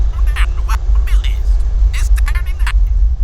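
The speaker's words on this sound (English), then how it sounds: "The car drives on, taking an on-ramp onto a freeway." A car drives onto a freeway on-ramp with a heavy low engine and road rumble throughout. Voices talk over it in short bursts.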